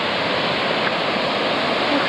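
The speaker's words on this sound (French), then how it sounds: "Écoutez le bruit des vagues." Sea waves breaking on the shore at Pondicherry, India, heard as a steady, dense wash of surf that fills the whole moment without pause, with a light sea breeze blowing.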